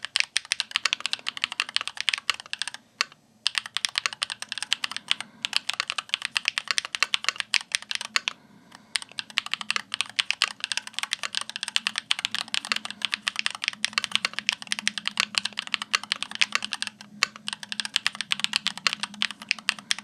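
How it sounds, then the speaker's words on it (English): Steady typing on a keyboard fitted with Gateron Magnetic Jade switches gives a fast, continuous stream of crisp, even clacks at close range, with a few brief pauses and no talking. "The Gateron Magnetic Jade is my preferred switch for sound for the last whole year."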